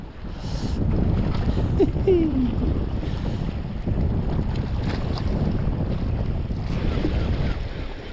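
Strong wind blowing at the coast by the sea, constant roaring buffeting against the microphone with waves beneath, loud and unbroken, with brief faint voice-like sounds mixed in.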